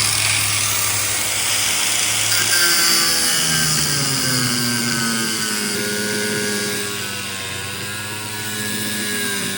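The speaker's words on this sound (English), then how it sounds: "So I'm just gonna cut this bolt off so we can actually get this thing out of here." Power tool cutting off a seized bolt on a car in a bodyshop, a loud continuous whine whose pitch sweeps and shifts as the blade bites, with no talk over it.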